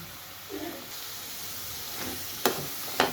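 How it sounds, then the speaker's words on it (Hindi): Potato French fries sizzle softly in hot oil, a faint steady hiss with a few sharper clinks and spatters near the end. "दूसरा स्टेप भी उसी तरह फ्राई कर लेंगे"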